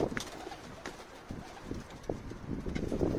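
Soft cooing of a pigeon or dove with a few chirps, faint and somewhat distant against rustling background noise.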